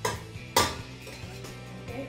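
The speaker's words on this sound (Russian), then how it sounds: "Now we start putting the onions first." Chopped onions tipped into a cooking pot that already holds oil, giving a sharp clatter followed by light scraping and stirring against the pot, close and fairly loud.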